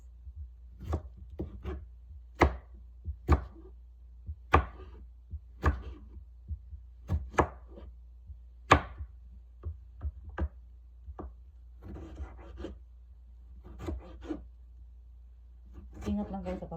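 A knife cuts two tomatoes on a board in a series of sharp, close taps, irregular but steady, with short pauses between cuts and a faster cluster near the end, no talk.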